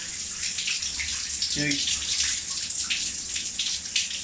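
A shower runs steadily while hair is washed with shampoo, a loud hissing spray close by with brief splashes and a short knock partway through, and no one speaking.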